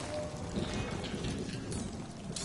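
Steady rain in a stormy scene among ruins in the Guardians of the Galaxy video game: dense, continuous hiss of rainfall with a low rumbling undertone, even and unbroken throughout, with no voices.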